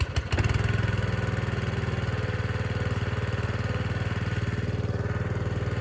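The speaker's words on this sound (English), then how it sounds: "So I'm going to start up the engine and show you." The diesel engine of a home-built submarine catches after a short crank and then settles into a steady, loud, rhythmic chugging idle. It is heard alone with no voices.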